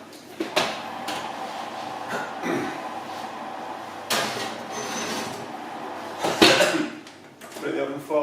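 A lidded pot of brewing mash for a 2-gallon Brewdog 5 AM Saint clone slides into a home oven, with scraping, knocks and a sharp metallic clunk as someone talks.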